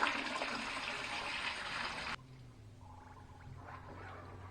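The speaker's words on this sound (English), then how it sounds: "we're going to pour our big bleach solution in" A bleach solution of peroxide and water pours over deer skulls, a loud, steady splashing rush that cuts off abruptly halfway, leaving a faint trickle and drip.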